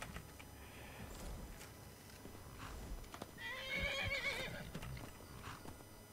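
A horse in the Skyrim video game whinnies in a clear rising neigh midway, with scattered clip-clop hoofbeats before and after, fairly quiet overall.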